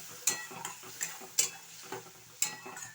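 Cauliflower sautéing with spinach juice in a pan, stirred with a spoon: about six regular, evenly spaced clinks of metal on metal over a soft, quiet sizzle, with no voice.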